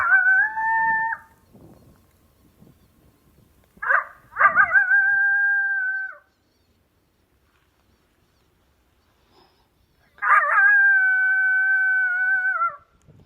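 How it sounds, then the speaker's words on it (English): Three long, wavering howls ring out with silent gaps between them, each a sustained rising-and-falling wail: a male coyote long-howl call played through an electronic caller speaker during a night hunt. "so I went to this one called Victor, long howl male."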